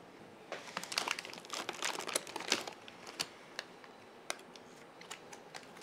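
Foam packing pieces pulled from the box of a Creality K2 Plus Combo 3D printer, giving dense crinkly rustling and squeaks for the first few seconds, then sparser isolated creaks and taps, close and fairly quiet, with no talking.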